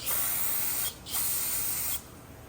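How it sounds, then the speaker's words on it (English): Two bursts of brake cleaner aerosol sprayed onto the rear brake of a 2016 Honda Accord EX-L, each a loud, steady close hiss lasting nearly a second, separated by a short pause, with no talking. "We give it a little cleaning with some brake cleaner, of course."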